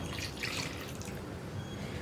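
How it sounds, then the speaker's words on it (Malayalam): Mango water drained from the fruit being poured into pickle masala in a pot before boiling, a soft continuous liquid trickle heard up close for a couple of seconds. "ഇത്രയും ഞാൻ നമ്മുടെ മാങ്ങയിൽ നിന്ന് ഇറങ്ങി വന്ന വെള്ളം ചേർക്കുന്നുണ്ട്"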